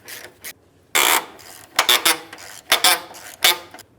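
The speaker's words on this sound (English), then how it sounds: "Let's start removing these 13mm headed bolts." Metallic clicks and ratcheting while 13mm strut bolts are loosened on a 2007-12 Nissan Sentra front strut assembly, in short irregular bursts with brief gaps.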